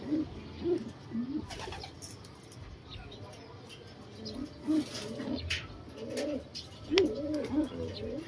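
Domestic pigeons coo in soft, repeated bursts close by during conditioning care with calcium and supplements, with quiet stretches between calls and handling noise around them.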